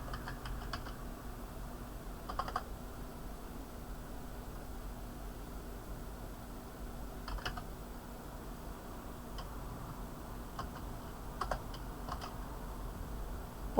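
Python code being typed on a computer keyboard, with soft key clicks in small clustered bursts and sparse pauses over a steady background hiss, close but quiet and without talk.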